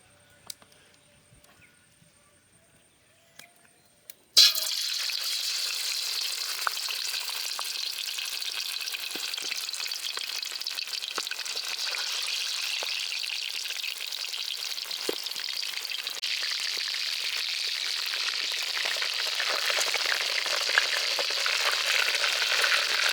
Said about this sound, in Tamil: எண்ணெய் சூடாகிட்டு இப்போ காடையை பொரித்து எடுத்துக்கலாம்